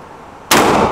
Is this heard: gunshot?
yes